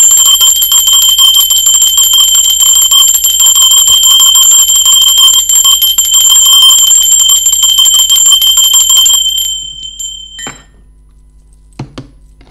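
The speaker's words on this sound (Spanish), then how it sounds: "Va, campana." A bright metal bell rings continuously with a sustained shimmering tone for about nine seconds, then fades and stops, followed by a couple of faint knocks in a quiet room.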